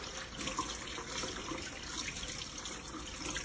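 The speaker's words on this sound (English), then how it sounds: "we're going to start by turning on our water" Tap water runs steadily into a sink to wet hands at the start of handwashing, a continuous even splashing rush with no talk over it.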